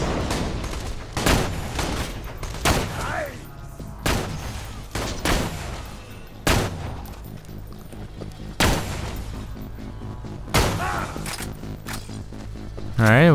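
Enemy gunfire in the shooter game Borderlands 2, a run of loud distinct shots and booming blasts spaced every second or two across the scene, with a voice talking over parts of it.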